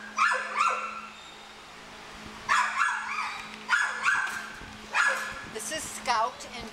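Dogs at an animal shelter barking in short bursts of two or three loud, close barks, repeating at intervals, with someone talking over and between them.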